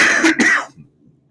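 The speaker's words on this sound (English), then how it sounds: "I got a cough in my throat." A person coughs and clears their throat in two quick rasping bursts, up close and loud, followed by near silence.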